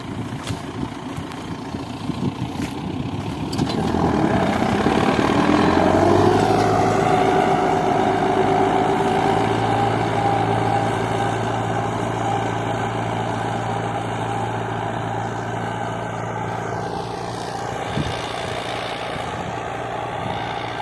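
MTZ 80 and MTZ 892.2 tractors pulling an AG 2.4 disc harrow across a soybean field, a steady diesel engine drone that swells after a few seconds and holds loud and continuous, with no speech.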